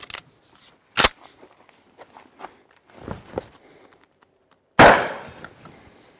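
A shotgun fires a cheap 9-pellet double aught buckshot round outdoors, one sharp loud blast with a decaying tail, after a few quieter clicks and handling noises.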